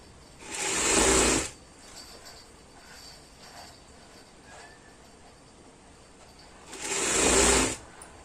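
A sewing machine stitching a Punjabi kameez runs in two short bursts of rapid whirring, one near the start and one near the end, with a quiet lull between them.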